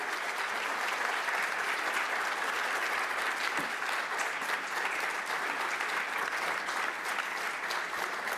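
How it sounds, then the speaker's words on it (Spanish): An audience gives sustained applause after a presentation at a women's event, a steady, even wash of many hands clapping at moderate distance, with no break. "Por favor, brindémosle un fuerte aplauso por su presentación"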